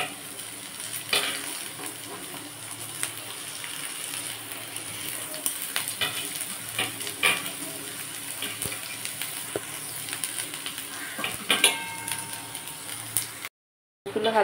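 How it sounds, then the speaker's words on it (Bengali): Chopped onions fry in hot oil in a kadai, a steady close sizzle with scattered stirring scrapes and small clinks, briefly cut out near the end. "কড়াইতে তেল গরম করে নিয়েছি। এবার এতে দিয়ে দেবো পেঁয়াজগুলো"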